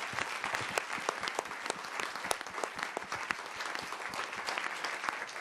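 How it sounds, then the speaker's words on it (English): Sustained applause from a conference audience thanking a panel at a session on super pollutants, a dense patter of many hands with sharp individual claps standing out, steady and fairly distant, with no one speaking. "giving them a warm round of applause"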